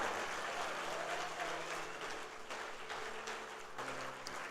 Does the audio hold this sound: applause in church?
yes